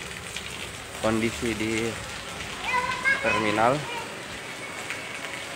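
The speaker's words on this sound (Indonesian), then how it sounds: "Saat ini sedang hujan deras." Heavy rain hisses steadily over Daya bus terminal in Makassar, a dense even wash in the background while a person speaks over it and a voice briefly rises.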